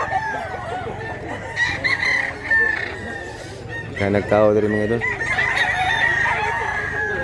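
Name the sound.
rooster crowing and clucking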